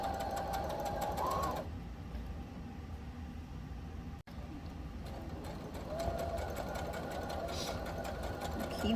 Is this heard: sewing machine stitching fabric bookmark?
yes